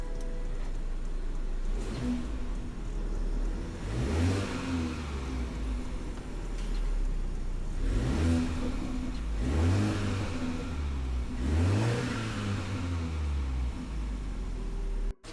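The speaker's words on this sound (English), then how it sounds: "Gave it some revs, still not showing a code," A BMW G20 330i fitted with an MST intake, charge pipe and blow-off valve is revved in several separate bursts over a low idle, each rise and fall clear and fairly close, with whooshing air between.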